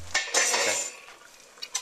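A Chinese spider strainer clinks against a pot as it lifts broccoli di rabe greens out, giving a few short metallic scrapes and clinks close by, then a brief quiet and two light taps at the end.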